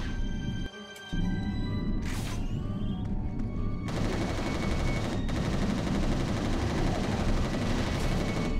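Gunfire in the video game Resistance Retribution: a quiet stretch broken by sharp shots, then sustained, loud, rapid automatic fire that continues to the end.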